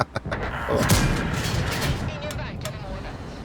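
Tank cannon shots in World of Tanks, a Strv 103B match: a few sharp booming reports early on, then a rumbling battle bed with distant thuds, while a voice talks over it.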